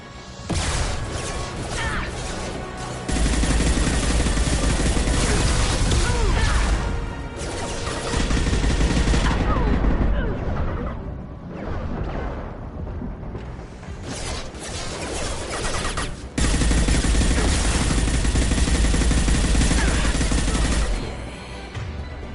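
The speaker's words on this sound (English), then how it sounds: "Gunship's back and with full shield." Gunship attack in the Mass Effect 2 video game, dense bursts of gunfire, crashes and mechanical clatter running loudly nearly the whole time, with a brief lull in the middle.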